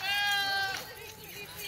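A spotted Ablak goat on a goat farm gives one drawn-out, wavering bleat that fades into quieter farmyard murmur and faint voices.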